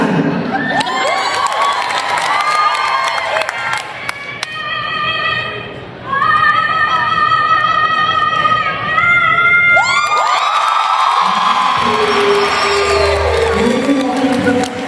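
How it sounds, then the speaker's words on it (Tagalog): A large crowd at a live show in the Philippines cheers and whoops loudly, with shouts and a sung or whistled tone rising over the din, sustained for about fifteen seconds. "ladies and gentlemen, palakpak ko Regina."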